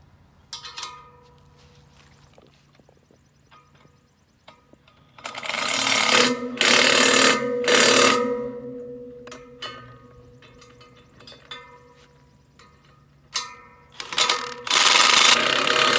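Power tool driving bolts in a garden repair job, loud whirring bursts starting and stopping in several runs with quiet pauses between.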